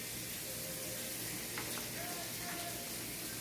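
Onions and mushrooms cooking in a pan give off a steady, quiet sizzle with a faint crackling texture, holding constant throughout and heard without any voices over it.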